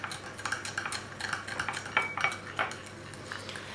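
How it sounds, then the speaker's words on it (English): Stirring melted butter with salt and garlic powder in a bowl, a quick run of light metallic clinks and scrapes of a utensil against the dish, close and quiet, with no talking. "I'll just stir it."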